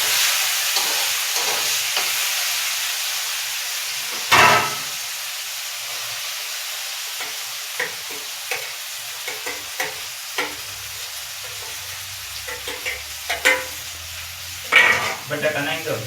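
Onions frying in a pan for batata poha give a soft, steady sizzle and hiss. Spoon scrapes and stirs sound now and then, along with brief louder clinks, and voices are heard faintly at times.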